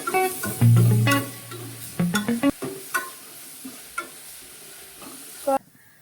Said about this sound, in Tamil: அதுக்கப்புறம் 2 பச்சை மிளகாய், நல்லா வதக்கிக்கலாம்.